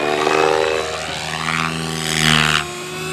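A fast radio-controlled electric model helicopter flies close by at a fundraiser at an airport, its rotor whine loud and steady, rising and falling in pitch as it speeds past.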